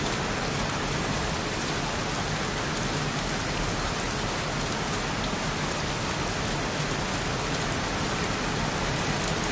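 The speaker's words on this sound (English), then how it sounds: "Goddamn rain." Steady, dense rain pours without pause in a PS4 video game, a loud even hiss of drops on surfaces with no voices or other sounds over it.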